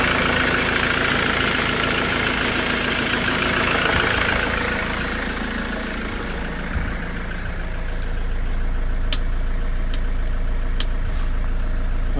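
A 2009 Land Rover Defender 110 hard top with about 120,000 miles runs at idle, a steady close mechanical rumble that holds evenly throughout, with a few faint clicks near the end.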